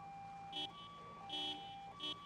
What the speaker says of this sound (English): Because that siren is so loud.